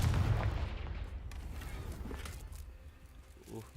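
The Confringo explosive spell cast in Hogwarts Legacy, a heavy booming blast at the start that rumbles and decays over the next few seconds, with faint game sounds trailing after.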